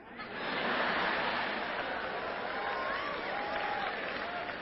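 An audience at a talk bursts into sustained applause, a dense wash of many hands clapping that swells quickly and holds steady for several seconds in a large room.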